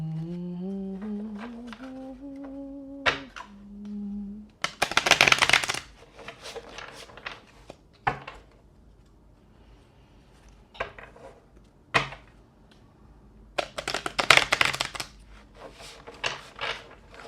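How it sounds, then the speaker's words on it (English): Playing cards shuffled by hand during a magic and witchcraft demonstration: two bursts of crisp riffling ruffle, one early and one near the end, with scattered card taps and a brief hum between. "Just shuffling the card."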